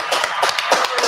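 Live podcast audience clapping, a short burst of close, dense applause with quick overlapping claps.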